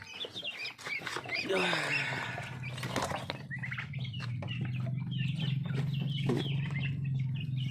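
Chickens cluck and muscovy ducks call at feeding time on a small farm, with repeated nearby squawks and clucks under a steady low background hum and a few light knocks.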